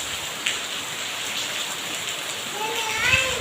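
First monsoon rain falling, a steady close patter of drops on surfaces filling the air evenly, with a faint voice near the end.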